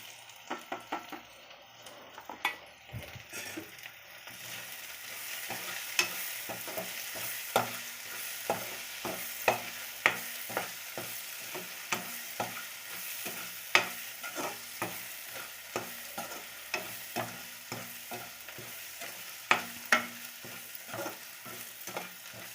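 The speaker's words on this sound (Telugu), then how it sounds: "కొద్దిగా వేయించుకుని కాస్త బాయిల్ చేసినవి మష్రూమ్స్ అయితే వేసేస్తున్నాను" Salt, chili powder and turmeric fry in oil in a pan for a mushroom curry. A soft, steady sizzle runs under repeated close clinks and scrapes of a spoon stirring against the pan.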